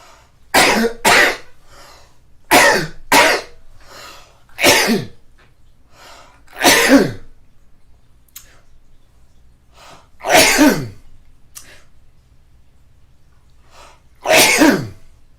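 Seven sharp, loud sneezes come one after another with pauses of quiet between them, each a sudden burst close to the listener.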